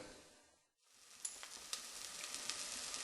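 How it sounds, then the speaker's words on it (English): Chopped onions sizzle in a hot pan after a brief silent gap, with soft crackles and pops over a steady hiss. "I've added the chopped onions, and they need frying for another 5 minutes or so"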